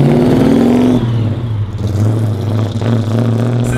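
Car engine pulling hard in a high gear under load on its first drive after a build, a loud, close droning growl that dips briefly at a gear change and then settles into a steady heavy hum.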